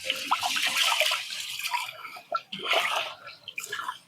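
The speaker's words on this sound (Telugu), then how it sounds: "1-2 సార్లు నీట్గా కడుక్కోవాలి బియ్యము" Rice is washed in a pot of Nallamala forest stream water, with close sloshing, splashing and trickling that swell and ease as the grains are swirled and rinsed.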